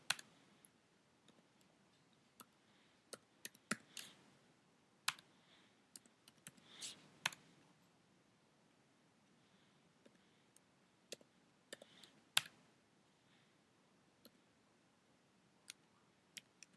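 Quiet computer keyboard typing, scattered sharp clicks and short bursts of keystrokes spread across the stretch, faint and close with no talking.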